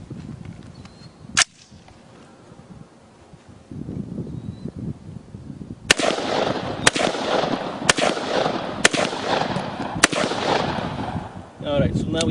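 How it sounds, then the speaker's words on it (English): A 1971 fully automatic gun fires armor-piercing rounds at steel targets outdoors, giving loud sharp cracks: one early report, then a spaced string of about six shots over a steady background rumble, with no talking. "I've got some armor-piercing rounds we're going to shoot the steel."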